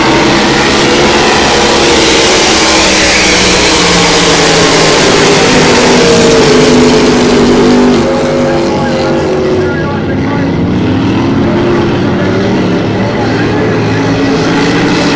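Racing powerboats roar off the start of a winter powerboat race, several loud engines howling and rising in pitch together, close and dominant, with a commentator's voice faint beneath.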